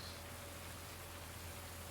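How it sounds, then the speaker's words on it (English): Steady rain in the farming video game Farming Simulator 19, a faint, even hiss of falling water with a low background hum, continuous and without variation. "I can hear rain"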